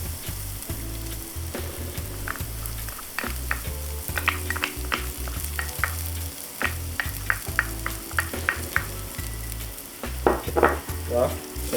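Onions frying in hot oil in a pan for beef broccoli, a loud continuous sizzle with repeated stirring and scraping clatter throughout, up close with no talk.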